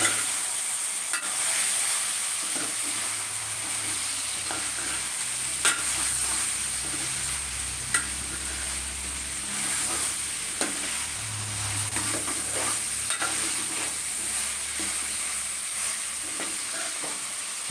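A spoon stirs chicken curry masala with onions in a pan, with steady sizzling and frying hiss throughout, punctuated by repeated scraping and clinking of the spoon against the pan, close and continuous with no talking.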